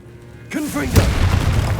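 A Confringo fire spell blast in the video game Hogwarts Legacy: a deep boom with a bursting crackle right after a spoken incantation, followed by rumbling fire and debris noise.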